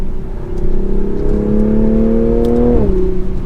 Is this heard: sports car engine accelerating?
yes